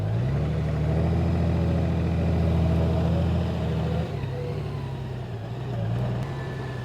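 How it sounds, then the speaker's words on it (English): An automatic motorcycle runs in low first gear through a slow U-turn, a steady low engine drone that drops in pitch partway through as the revs ease off, close and continuous. "the bike's going into that very low first gear"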